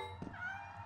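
A cat in the video game Lethal Company gives a single short meow, fairly faint and close, over a low steady in-game hum.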